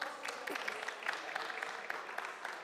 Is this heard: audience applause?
yes